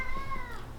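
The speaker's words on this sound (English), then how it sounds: "I got the cat meowing in the background." A cat meows once in the background, a drawn-out, slightly falling cry, moderately faint over quiet room tone.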